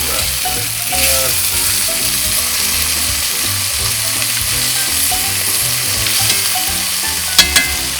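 Chicken piccata fries in a pan with a constant loud sizzle, crackling, and a bit of stirring, close up with no talk.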